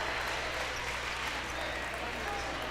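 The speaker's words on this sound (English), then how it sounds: "And now the crowd for AP really comes to life." A crowd at a varsity boys' Class 2A basketball playoff game cheers and roars steadily in a gym, loud and continuous, with a commentator talking over it.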